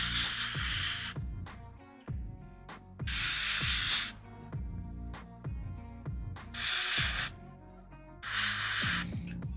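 An airbrush sprays paint onto a Dreadnought model in four strong, steady hissing bursts of about a second each, close and loud, separated by short pauses full of small handling clicks and taps.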